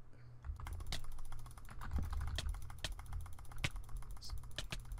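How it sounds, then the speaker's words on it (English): Rapid, dense clicking on a computer keyboard or mouse during a game, a steady stream of close, sharp clicks over about five seconds with a few louder strikes. "Spam clicking."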